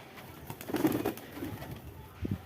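Black-eyed white pigeons perched in a home loft give soft, low coos, with a fuller burst in the middle and a couple of short notes near the end, close and fairly quiet.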